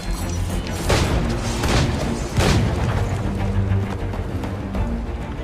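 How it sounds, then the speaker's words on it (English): Combat gunfire from Edward in Assassin's Creed 4, a few heavy booming shots about a second apart, muffled and rumbling over a dense, loud bed of battle noise and clashing, with no voices. "Here you can see Edward utilizing his dual cutlasses and guns, combining them in counters and combo attacks."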